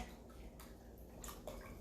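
Chicken broth is poured into a measuring cup and splashes gently. The soft, steady liquid wash runs the whole time and is faint.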